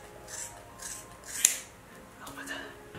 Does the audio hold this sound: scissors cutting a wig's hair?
yes